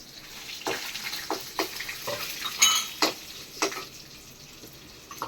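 Dry-roasting red chillies and urad dal in a pan on the stove, with irregular scraping and stirring scuffs of a spatula against the pan, moderately quiet over a low background hiss.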